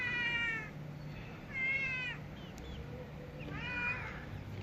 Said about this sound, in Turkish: Kedi sesini duyuyorsunuz.